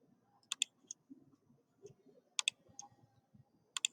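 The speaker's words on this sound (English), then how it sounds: "Next, click on create option." Computer mouse clicks while working in Microsoft Access 2013, sharp close clicks in quick pairs spaced a second or two apart, with faint soft room noise between them.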